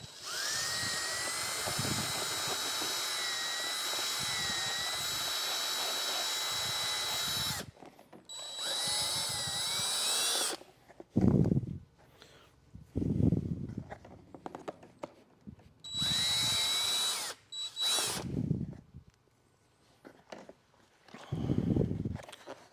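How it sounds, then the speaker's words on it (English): A power drill with a step drill bit whines in long, steady bursts, stopping and starting several times, with rustling and handling noises in the pauses. "I like to use these step drills"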